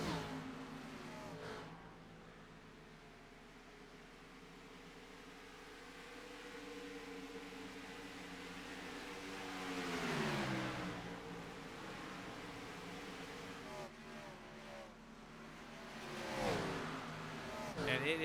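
Cup race cars circle Atlanta in a racing video game, with a low, steady engine drone and rising, sweeping revs as cars pass, faint and under a commentator's voice.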